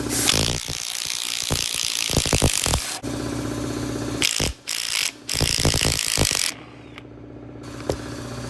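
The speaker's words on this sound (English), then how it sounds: "before you try to remove the 50mm nuts here" Ratchet wrench clicking rapidly and loudly up close while removing 50mm nuts during a Pro Comp 4-inch suspension lift on a Jeep Wrangler, in several bursts with brief pauses, then a quieter stretch with a final click.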